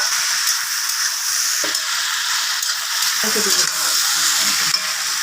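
Bitter gourd with shrimp sizzles steadily in a hot pan for a Bengali fry, a loud continuous crackling hiss with occasional stirring scrapes over it.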